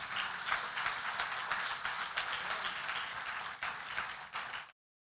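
A church congregation at a family congress applauds steadily, a dense wash of clapping that holds for nearly five seconds before cutting off abruptly, with no speech over it.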